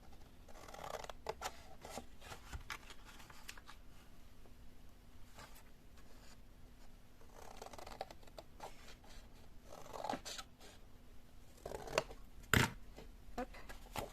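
Scissors snip through folded paper for a desk organizer in a series of quiet, close cuts with scraping and rustling between them, ending in a louder crisp snip.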